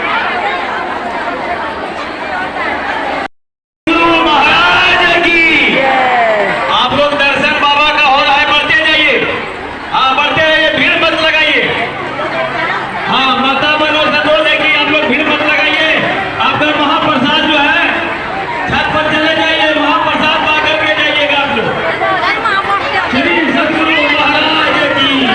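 A large crowd disperses after a satsang, with a dense, continuous hubbub of many overlapping voices close by and one brief dropout near the start.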